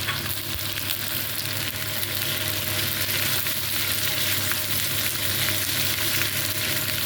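Food sizzles and fries in a pan as it is stirred, a continuous crackling hiss with faint scraping, close and steady throughout.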